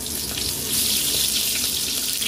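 Peeled onion layers frying in hot oil for a capsicum chicken masala, giving a steady, loud hiss with bright crackle throughout, no voices.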